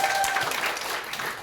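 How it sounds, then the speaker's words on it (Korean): Applause from an audience at a Korean sales presentation, a steady wash of claps lasting briefly at moderate volume, fairly distant and dense. "크게 박수 쳐주십시오"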